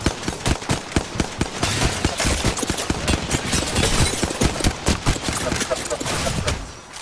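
Sustained machine gun fire in Apex Legends during a PS5 match, a rapid, close, steady stream of loud shots with brief pauses, under player chatter.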